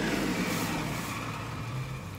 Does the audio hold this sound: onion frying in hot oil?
no